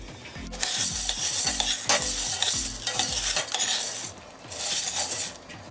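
A utensil stirs and tosses pasta shells toasting in a hot pan with oil for a simple soup, giving loud rhythmic scraping and rattling over a steady sizzle, with a brief pause near the end.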